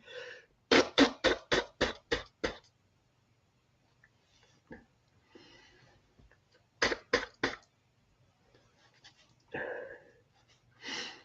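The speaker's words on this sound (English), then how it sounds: "Let me blow my nose" Someone blows their nose up close in quick, sharp honking bursts, two runs of short puffs separated by quieter sniffs and rustling.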